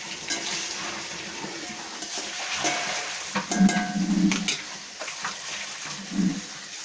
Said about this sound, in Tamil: நல்லா பொரியட்டும் கருவாடு.